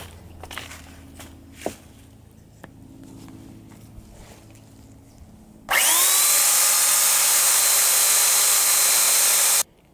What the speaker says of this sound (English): Now I'm just going to take my belt sander and sand off the edges.